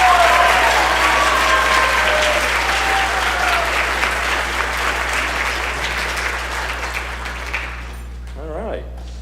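An audience at a school jazz band and orchestra concert gives a long, strong round of applause for a Director's Award recipient, with some shouts over the clapping before it fades out and a voice starts speaking.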